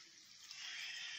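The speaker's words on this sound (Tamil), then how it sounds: "தண்ணி ஊற்றிக்கலாம்." Water poured from a tumbler into a pan of poori masala, a faint soft steady splashing stream that swells slightly partway through.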